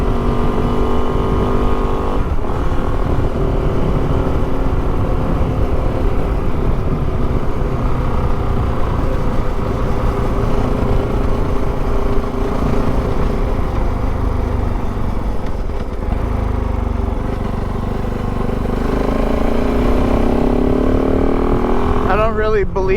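Kove 450 Rally motorcycle being ridden, a continuous close engine drone with shifting pitch and wind buffeting, a voice talking over it throughout.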